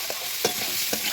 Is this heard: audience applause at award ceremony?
no